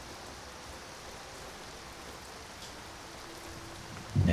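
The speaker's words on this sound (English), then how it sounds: "Like I hear the sound, but I don't see the rain anymore." Steady rain falls in the video game Skyrim, modded as Lorerim: a dense, even hiss of rain on surfaces, continuous and fairly close, with no talk and a louder bump at the very end.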